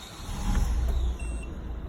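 A Peugeot 1.6 HDi diesel engine with a failed injector runs at a steady idle, a low, fairly quiet rumble with faint mechanical clatter, lasting under two seconds.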